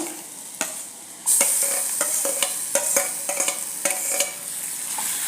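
Mashed eggplant tipped into a pan of sautéed onions, then stirred briskly: a quiet start, a sudden sizzle surge, and a run of quick close spatula clinks and scrapes against the metal.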